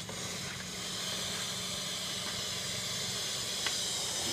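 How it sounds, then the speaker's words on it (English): A household steam cleaner set to full steam releases a steady, continuous hiss at close range, even and unbroken for the whole stretch, with no voices over it. "You see the steam coming out."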